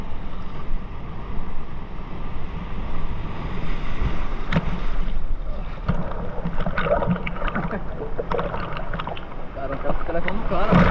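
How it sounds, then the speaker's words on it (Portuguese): Waves breaking at high tide on Praia do Tubarão in Boa Viagem, Recife, a continuous rough wash of surf with wind buffeting the microphone. "Olha a altura das ondas. Uns 2 metros de altura."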